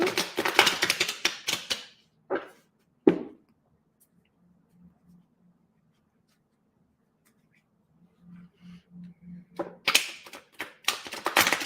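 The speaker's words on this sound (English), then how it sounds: "Make sure I get a good shuffle here" Crisp clustered clicks and riffling bursts of cards being shuffled, a quiet pause with a faint low hum in the middle, then more rapid riffling.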